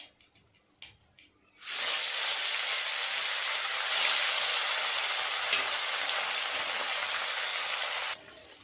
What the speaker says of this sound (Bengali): আস্তে আস্তে মাছগুলো উল্টে অপর পিঠটাও ভাজা করে নেব।